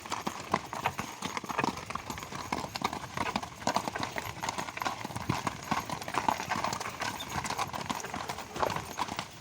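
Mares walk steadily on outdoor ground, their hooves clopping in a constant uneven patter close by through the whole stretch.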